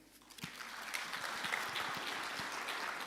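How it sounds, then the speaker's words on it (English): Conference delegates at a Sun City resort give a sustained round of applause for a provincial Premier, the steady clapping soft and somewhat distant, filling the room without speech. "Can we continue clapping hands for the Honorable Premier?"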